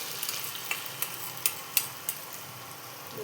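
Chili and poppy seed paste goes into a hot pan and gets stirred, a soft sizzle underneath a quick series of light scraping ticks from the spoon, fairly faint and close.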